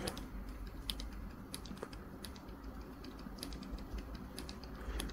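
Rapid keyboard typing of a search entry in an app library screen, steady irregular clicks close by with a low background hum, no talking.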